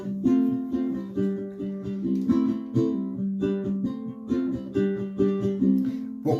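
Ukulele strumming the chord sequence of a song, a short repeating progression of bright plucked chords played steadily and fairly softly, with no voice.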